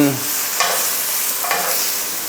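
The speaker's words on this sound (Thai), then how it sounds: "พอใส่พริกลงไปแล้วเราก็จะตามด้วยน้ำเปล่านะครับ" Water hits stir-fried sweet bell peppers cooking with pork belly, raising a loud, steady sizzle in a close pan, with two brief stirring scrapes.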